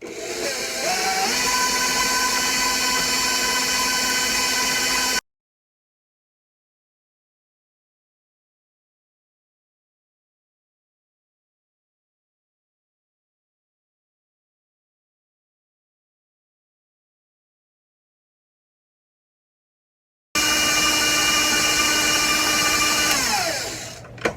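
A stand mixer runs steadily on medium speed through cake batter for blueberry cake, a loud continuous motor whine with harmonic tones, heard in two bursts separated by a long stretch of silence.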